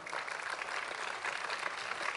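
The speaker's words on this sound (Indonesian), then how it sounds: "Tepuk tangan untuk beliau-beliau." An audience at an evening gathering with the mayor and deputy mayor of Surabaya claps at moderate volume, a dense, even patter of applause heard from some distance.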